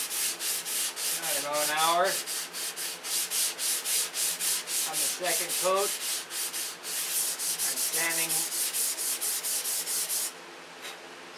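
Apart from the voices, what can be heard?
sanding a finish with 320 grit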